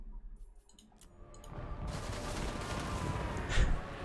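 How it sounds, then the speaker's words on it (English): Cannon fire booms out in a pirate video game battle, a heavy rumbling barrage that swells after a quieter start into sustained, dense blasts with one louder shot near the end. "Cannon shooting somebody."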